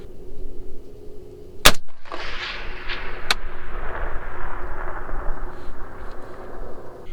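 A single loud, sharp rifle shot from a Palmetto State Armory Gen 2 .308 AR-10 with a 16-inch BCA barrel, fired outdoors at long range, followed by a long rolling echo and a faint second crack moments later.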